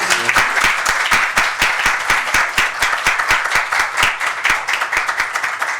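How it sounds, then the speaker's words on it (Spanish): Loud audience applause, many hands clapping in a dense, sustained burst that holds steady throughout before easing slightly at the end. "gracias Bernardo, vamos a darle un aplauso."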